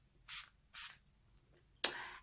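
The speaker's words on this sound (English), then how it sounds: "now we're going to be going in with our finishing spray" Three short hissing bursts of makeup finishing spray, two quick pumps close together, a pause, then a longer final spritz, close and clear in a quiet room.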